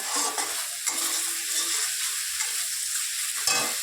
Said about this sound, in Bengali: এই যে মশলা কষাচ্ছি, হয়ে গেছে প্রায়